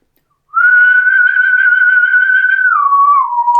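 A single person whistling one long, steady, clear tone held for a few seconds that then slides down in pitch, close and loud with no talking.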